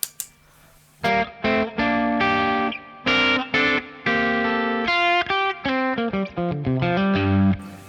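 An electric guitar through a Fender Deluxe Reverb tube amp set to 5, with a warm, slightly overdriven tone, plays a run of chords and single notes, loud and close, with no talking.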